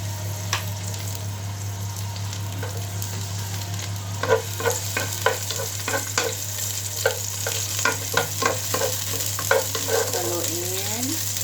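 Chopped garlic fries in hot oil in a pan under a continuous soft sizzle, while a utensil stirs it in sharp, irregular scraping clicks that grow busier partway through.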